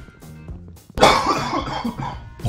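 Coughing from a character in a Minecraft let's play. After a quiet start there is a sudden harsh, close cough burst, followed by rough, raspy throat sounds that trail off.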